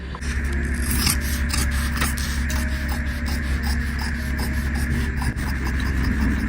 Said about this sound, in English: you're literally just cutting on your crease line